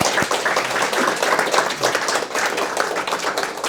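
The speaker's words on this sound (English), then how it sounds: "Let's give them a round of applause" An audience at a talk claps together in a dense, steady round of applause that holds at an even level for the full few seconds, with no voices rising above it.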